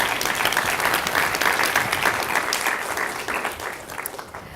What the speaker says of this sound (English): Let's give everyone an applause for that.